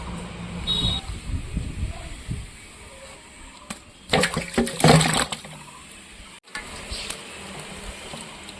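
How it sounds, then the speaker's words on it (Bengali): Running water splashes and trickles as whole raw mangoes are washed, with a louder burst of rinsing midway, a brief cutoff, then softer water again, no voices. "আমগুলো পরিষ্কার করে গোটা অবস্থায় ধুয়ে নিচ্ছি"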